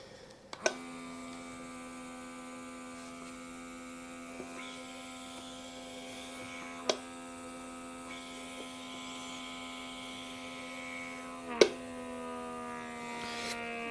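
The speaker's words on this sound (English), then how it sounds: "This is the vacuum pump." A small hand-held vacuum pump drawing air out of a sealed food container lid, a steady faint electric hum with a few sharp clicks scattered through, no talking.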